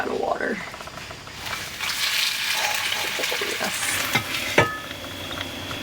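Eggs and bacon fry in a pan over a woodland campsite fire, a steady sizzle with scraping and a few metallic clinks close by.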